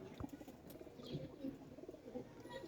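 Soft, low pigeon coos repeat in a steady murmur over faint background noise, with a brief rustle near the start.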